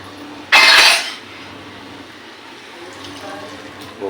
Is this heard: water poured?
yes